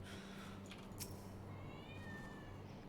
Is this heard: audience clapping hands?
no